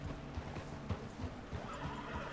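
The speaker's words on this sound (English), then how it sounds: "The horse can feel your fear." A horse in Red Dead Redemption 2 whinnies while its hooves clip-clop in a steady, close rhythm, with pulsing low thuds running through the whole stretch.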